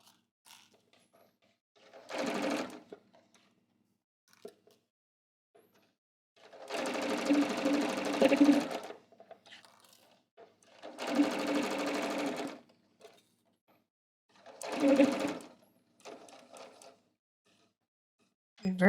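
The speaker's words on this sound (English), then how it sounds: "My needle ends where it needs to be. And that's one of the things about this machine." A sewing machine stitches a pant in-seam in four short runs of fast, even needle chatter, separated by quiet pauses, heard up close.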